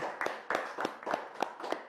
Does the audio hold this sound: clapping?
yes